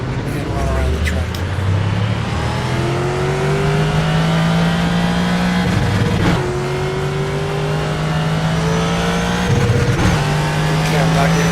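A Ford GT GT3-class race car engine from iRacing, driven at Mid Ohio. It revs loud and close through rising gear pulls with distinct upshifts, while a driver's voice talks over it now and then.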